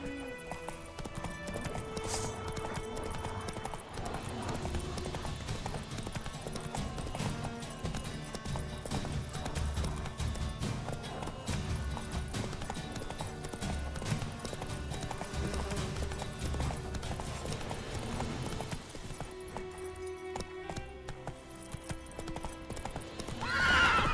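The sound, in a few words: horse Roach galloping in video game The Witcher 3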